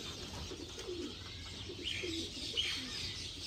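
A breeder pair of pigeons coos softly, low throaty murmurs with a couple of faint higher chirps, over a steady background hum.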